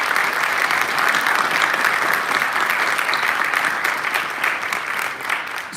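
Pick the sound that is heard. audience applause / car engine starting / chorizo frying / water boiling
audience applause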